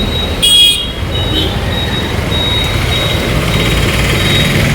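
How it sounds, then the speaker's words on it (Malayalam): Cars and other road vehicles rolling past a railway level crossing at Edava once the gate opens: a steady, fairly close traffic rumble with a short horn toot near the start. "പിന്നെ ആ ട്രെയിൻ പോയി ഗേറ്റ് തുറന്നിട്ട് അടുത്ത വണ്ടി വരത്തുള്ളൂ ഇങ്ങോട്ട്"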